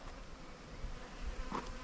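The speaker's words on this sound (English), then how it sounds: "Just swarming with bees." A swarm of thirsty bees gathered at a spot near an old riverbed, buzzing in a soft, steady drone close by, with one insect passing nearer for a brief louder whine.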